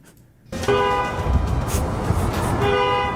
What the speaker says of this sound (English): Driverless cars are honking at each other in the night.